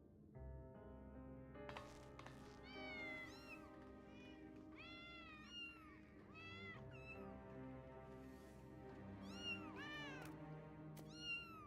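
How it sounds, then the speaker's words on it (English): A video game cat meows repeatedly in a run of rising and falling calls, some drawn out and whiny, clear and close over a soft background hum with no speech. "Meow."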